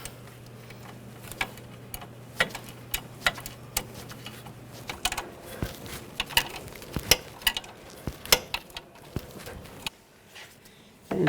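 A nut on a VW Tiguan front strut mount is tightened while a hex key holds the stud, producing a series of sharp clicks and small metallic ticks at close range over a faint background hum.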